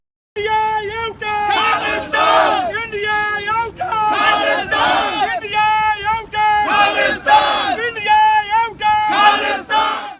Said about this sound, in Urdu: وائٹ ہاؤس کے سامنے مظاہرہ ہوا، جس میں بھارت کے خلاف خوب نعرے بازی کی گئی